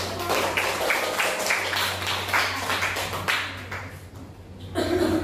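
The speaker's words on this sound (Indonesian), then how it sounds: "Ya, tepuk tangan dulu." A classroom group claps for a student team after its presentation in an Indonesian language lesson, a steady ragged patter of hands lasting several seconds with a low hum beneath and a quieter stretch before it picks up again.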